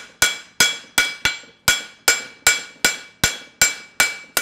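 A hammer strikes a horseshoe on an anvil as the ground surface is flattened, about a dozen sharp ringing metallic blows at a steady, even rhythm, each decaying briefly before the next, close and loud with no talk.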